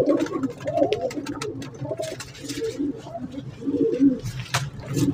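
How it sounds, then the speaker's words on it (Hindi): Pigeons coo in repeated soft, throaty bursts, several birds overlapping at close range with a steady rhythm throughout, at a pigeon market in Lahore. "ये कबूतर है नीला"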